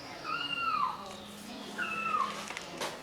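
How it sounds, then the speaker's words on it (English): A mobile phone ringtone plays two rising-and-falling chirps that sound like a cat's meow, moderately loud in a quiet room, with a brief faint voice near the end. "That's my telephone."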